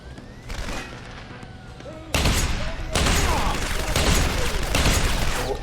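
Gunfire in the video game Deus Ex: Human Revolution, a dense burst of shots and booms that starts quieter and grows loud and sustained after a couple of seconds, with heavy layered in-game combat noise.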